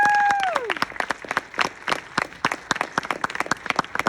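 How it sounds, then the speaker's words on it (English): A festival audience claps after a film screening, with dense, continuous hand-clapping filling the room and a fading tone at the start. "let's give a big round of applause for this entire production"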